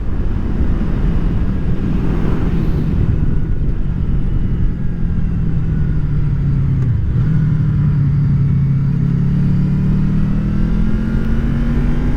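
A tractor passes on a village road, a steady low engine rumble heard over continuous wind and motorcycle riding noise, with a pitch dip midway as it goes by close.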